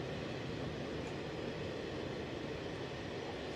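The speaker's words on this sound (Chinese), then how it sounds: "看看这个货车多长" A long freight train with two locomotives and container wagons rolls past a highway service area near the Fujian–Jiangxi border, a steady broad rumble of wheels and cars holding even throughout with no voices.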